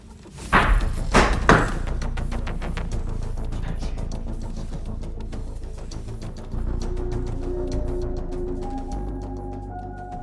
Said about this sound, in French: A live stream interrupted by gunfire.